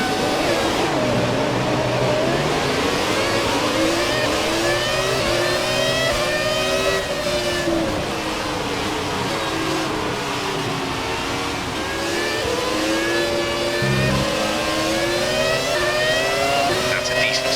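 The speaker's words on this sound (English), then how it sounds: "Classic cars, such as the F2004, sound cool with their screaming engines." A video-game Formula 1 car engine, F1 2017, screams at high pitch, its tone rising and falling through gear changes over a low rumble, loud and continuous throughout.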